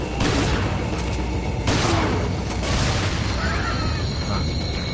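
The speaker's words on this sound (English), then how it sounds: "I'm really appreciating these self-exploding grenades" Repeated explosions from self-detonating grenades in Resident Evil 4, a dense, loud barrage of booms and crackling blasts with gunfire-like bursts filling the whole stretch, layered over game sound effects.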